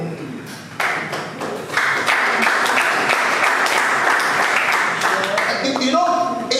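Conference audience breaks into a loud, sustained round of applause that swells after the first second and continues steadily, with a voice over it and a few brighter tones near the end.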